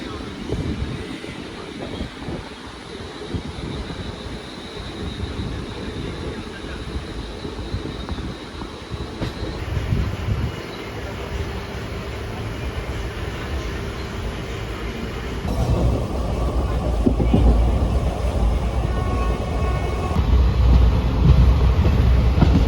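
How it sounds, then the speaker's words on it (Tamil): Steady rumbling roar of a passenger train near Karur heard from on board, growing louder and heavier in the later part, with constant rolling noise. "இப்போதாங்க ட்ரெயின் பார்த்தீங்கன்னா ஸ்டார்ட் ஆகிடுச்சு."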